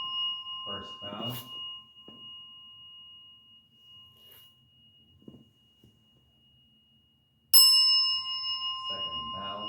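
A single clear bell strike in a Zen service rings out loud and sustained after a quiet stretch, with soft speech and chanting murmurs before and after it.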